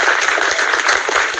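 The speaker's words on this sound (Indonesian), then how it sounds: "Ini maksudnya apa tepuk tangan begini?" Loud, dense applause from a crowd at a religious lecture, a continuous wash of hand clapping filling the whole moment with no voices over it.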